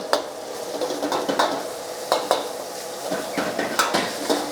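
Minced pork fries over high heat in a pan, crackling and sizzling steadily while a spatula scrapes and clinks against the pan in repeated sharp strokes, close and without talk.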